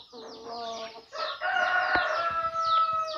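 A Cochin rooster of white and silver colouring crows loudly and close by, one long drawn-out call following a shorter one, with no talk over it.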